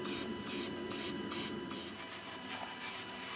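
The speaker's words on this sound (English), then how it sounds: "We're going to spray the cast iron liberally." Short hissing bursts of aerosol cooking oil spray onto a cast iron pan over a sink come in a quick, irregular series, steady and fairly close with a faint background hum.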